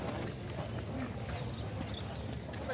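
Faint, quiet clip-clop of a horse's hooves walking at an unhurried pace at a horse fair in Alagoas, Brazil, heard at a distance over low background noise.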